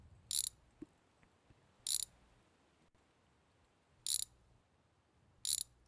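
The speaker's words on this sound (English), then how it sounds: "Take off the camshafts." A ratchet in the video game My Garage clicks in four short, sharp bursts while camshafts come off an engine, evenly spaced bursts with quiet pauses between them, with no talk.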